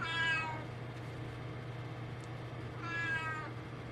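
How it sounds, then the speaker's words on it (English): A house cat meows twice, each a drawn-out, close and clear call, with a quiet stretch between them over a low steady indoor hum. "this cat doesn't stop."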